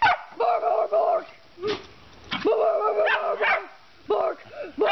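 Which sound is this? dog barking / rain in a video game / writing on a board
dog barking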